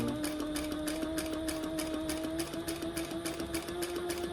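A sewing machine runs steadily, stitching a bag tab with a back stitch at stitch length 4, giving a fast, even mechanical whir with regular needle ticks and a faint motor hum, heard alone at moderate volume.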